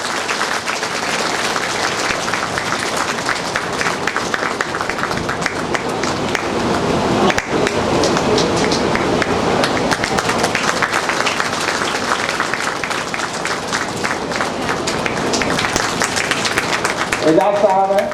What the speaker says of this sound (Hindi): तालियों की गड़गड़ाहट होनी चाहिए।